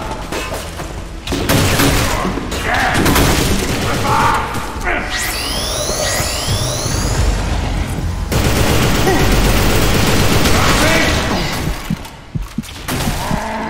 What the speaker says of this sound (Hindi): शॉट्स पड़ रहे हैं, बहुत गंदे वाले शॉट्स पड़ रहे हैं।